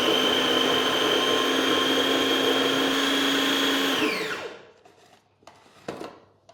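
A food processor whirs steadily as it mixes plain flour, icing sugar and cold cubed butter, a loud continuous motor whine that winds down and stops, followed by a few faint clatters.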